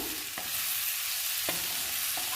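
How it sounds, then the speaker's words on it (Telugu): Tamarind and curry leaves fry in a pan for a mint chutney, a steady broadband sizzle throughout with a few sharp stirring knocks, close and continuous with no talk. "ఈ చింతపండు, కరివేపాకు కూడా వేయించుకుందాము"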